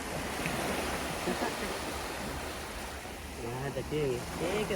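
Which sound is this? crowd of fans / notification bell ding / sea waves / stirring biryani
sea waves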